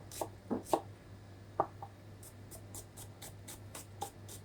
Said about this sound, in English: for the Bhuna Ghosh, we'll chop some onions first